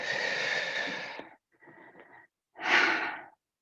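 Slow breathing during a guided relaxation exercise: a long audible exhale, a softer short breath, then another strong breath, close and quiet with pauses between.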